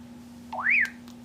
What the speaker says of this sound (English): it'll do this crazy alarm thing, and the flashlight on the top will flash